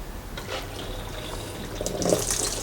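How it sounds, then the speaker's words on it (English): Water rushes steadily into a washing machine tub through a newly working inlet valve, a continuous hiss and splash that swells slightly toward the end. "as you can see, the water is coming out, so this is working now"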